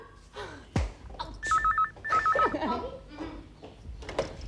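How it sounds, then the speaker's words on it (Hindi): A telephone rings in two short electronic warbling bursts, close by, with voices talking before and after. "फोन"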